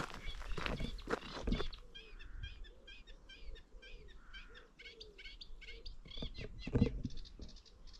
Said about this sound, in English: No idea what that bird is.